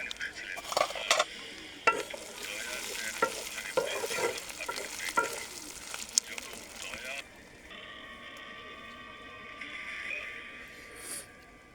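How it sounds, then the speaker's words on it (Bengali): Chicken is stirred in a pan with a spiced tempering for chicken kalavuna, giving close, busy scraping and stirring over a steady sizzle that drops to a quieter, even frying hiss partway through. "সমস্ত চিকেন আমি এখন খুব ভালো করে নেড়ে নেব।"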